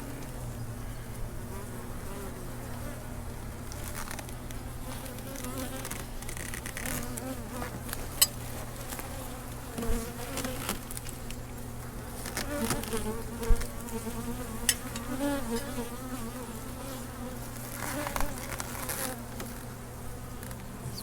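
Honey bees buzz densely and continuously around an open hive during an inspection. The hum stays close and steady, and faint handling knocks and brief rustles sound now and then.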